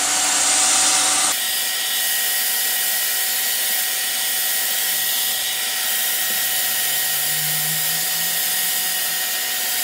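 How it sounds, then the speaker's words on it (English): A hairdryer blows steadily to warm and soften plasticine, a loud continuous whoosh that cuts off abruptly after about a second, leaving a quieter motor hum with faint tonal whine running alone for the rest. "Use the hairdryer to do that."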